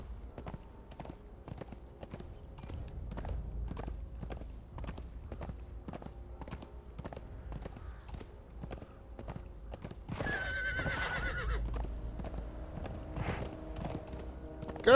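A horse in a video game clip-clops along at a steady, even rhythm of hoofbeats, then gives a loud whinnying neigh partway through before the hooves carry on.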